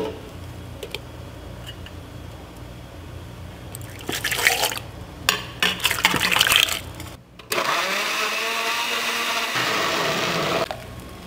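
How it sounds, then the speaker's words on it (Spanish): Apple with peel and aloe vera chopped and dropped into a blender with clacks and rustles, then the blender whirs loudly and steadily for several seconds, heard close with no talk. "Vamos a licuar los ingredientes."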